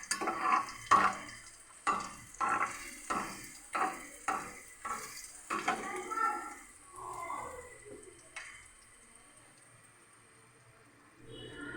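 Garlic sizzles in hot oil in a pan while being stirred, a steady frying hiss broken by about ten rhythmic scraping strokes of a spoon, close and clear with no talking.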